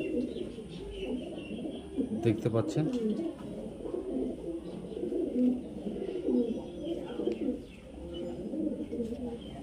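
A Madras pigeon, a timid fancy breed, coos repeatedly at close range amid other bird chirps, with someone talking over much of it.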